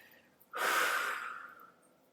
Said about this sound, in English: So breathing in and breathing out.